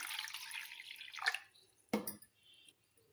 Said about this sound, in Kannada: ನೀರು ಹಾಕಿಡ್ತೀನಿ ನೋಡಿರಿ.